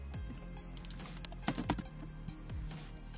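Typing a command for a Discord.js bot on a computer keyboard, with a quick burst of close key clicks in the middle and lighter taps before and after, no talking.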